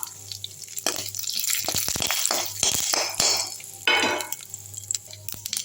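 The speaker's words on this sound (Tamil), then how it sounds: "சீரகம் ஒரு செட்டிக்காய் போட்டுப்போம் கருவேப்பிலை போட்டுக்கலாம் சும்மா ஒரே ஒரு மிளகா வந்து சும்மா கிள்ளி தாளிச்சிக்கலாம்" Cumin, curry leaves and a torn chili hit hot oil for a tempering in a Ceylon spinach herbal chutney, giving loud, close bursts of crackling sizzle that surge and fade over a low steady hum.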